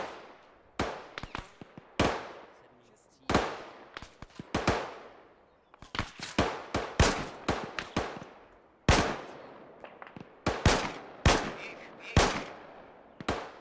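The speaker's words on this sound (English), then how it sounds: "I think I'm still taking fire from that direction." Gunfire in Arma 3 Antistasi on the Chernarus map: single shots and short bursts crack out steadily over about fourteen seconds, some close and sharp, others fainter and more distant, with no talk.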